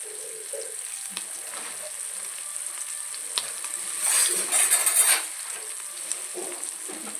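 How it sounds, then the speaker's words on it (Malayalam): Chopped onions frying in hot oil as a tempering for a Kerala fish curry made with mango, a steady low sizzle that swells louder and crackles for about a second midway, then settles back. "ഉള്ളി അരിഞ്ഞിട്ട് വറക്കാം"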